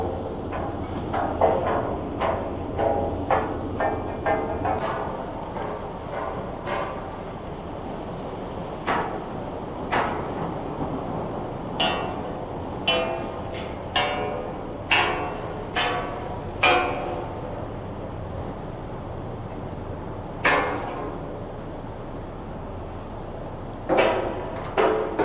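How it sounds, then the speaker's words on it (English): Sharp irregular knocks and bangs ring out as a crew bangs ice off a lake freighter's boom in the icy Welland Canal, over a steady windy, watery background, some in quick clusters, others spaced apart, with no voices. "Looks like they're banging ice off the boom."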